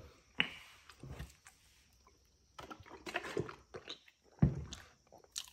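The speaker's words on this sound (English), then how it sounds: "I want the video just me chewing and eating it" Close, soft chewing and biting on a Quest Bake Shop chocolate chip muffin, with a few sharper crunchy bites spread across a quiet stretch and no talking.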